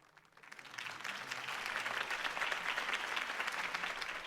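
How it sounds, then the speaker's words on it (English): A crowd in the Batman Telltale video game breaks into applause after a campaign speech, swelling from quiet to a full, sustained roar of clapping that holds steady to the end. "If only Mr. Wayne, my campaign's largest backer, could have heard that applause"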